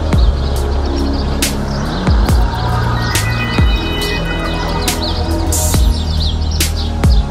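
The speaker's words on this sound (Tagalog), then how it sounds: "Ayan, ang daming ibon." Many birds chirp and tweet busily outdoors in Cologne, Germany, over a loud, rumbling background, with sharp bursts of noise punctuating the chorus.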